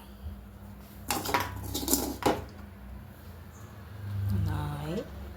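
Grated coconut is mixed into rice flour for rice puttu in a bowl, with scraping and clinking of a utensil against the dish in short bursts, close by, alongside a speaking voice.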